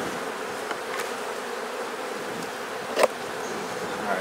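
Honeybees in an open, well-populated beehive give a steady, dense buzz during a hive inspection, with a few brief clicks and knocks of the frames.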